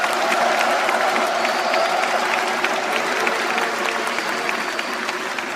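Audience applause at a public gathering in Korea, a dense, steady wash of many hands clapping at close range that continues throughout at an even level, with no speech over it.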